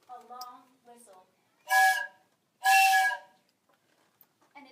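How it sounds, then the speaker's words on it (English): A train whistle sounds in two long, loud tonal blasts, preceded and followed by a voice speaking, in a Polar Express story reading. "the train started, and it let out a long whistle"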